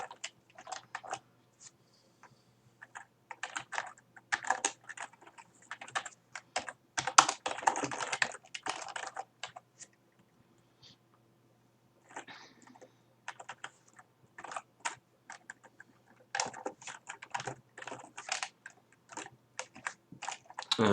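Steady bursts of typing on a computer keyboard, rapid clicking keystrokes in irregular runs with short pauses, close and clear with no talking.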